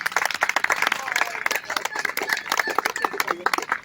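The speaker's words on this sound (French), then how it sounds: "On peut l'applaudir" Dense, rhythmic clapping from a crowd applauding a falcon at an outdoor birds-of-prey show, with steady claps throughout and a few whistles or shouts mixed in.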